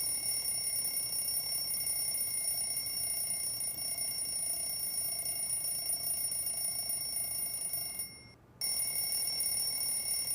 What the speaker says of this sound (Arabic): طفي صوت المنبه